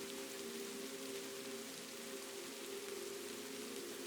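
Autumn rain falling at night in Kyoto, Japan, a soft, even hiss of steady rainfall, faint and uninterrupted with no voices.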